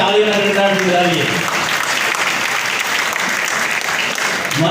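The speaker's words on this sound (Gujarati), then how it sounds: "તાળીઓના ગણગણાટથી વધાવીએ." Steady applause from the audience at a Kheda district police honour ceremony, sustained and fairly loud for the whole stretch, with voices mixed into the clapping.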